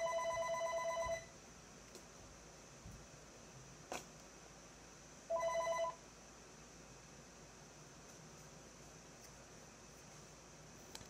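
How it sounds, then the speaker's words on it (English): A telephone in a home pottery workspace rings twice, each burst a rapid trilling bell a little over a second long, separated by several seconds of quiet room noise with a couple of faint knocks. "Yes, the phone's ringing."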